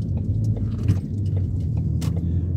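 A car driving through town toward the city centre, heard from inside as a steady low engine and road rumble with a few faint rattles and clicks above it.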